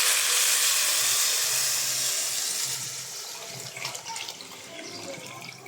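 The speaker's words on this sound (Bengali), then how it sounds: "আমি সেই জলটাও দিয়ে দিচ্ছি।" Pre-heated, measured hot water is poured into a pan of fried ingredients, a loud rushing hiss and sizzle that slowly fades into softer bubbling.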